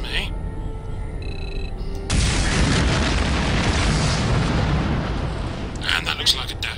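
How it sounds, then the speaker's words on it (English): A loud, sustained roaring blast of an exploding power source in the game Star Trek Voyager: Elite Force, a dense wash of rumbling noise that swells in abruptly and persists for several seconds, followed by sharper bursts near the end. "that looks like a exploding power source"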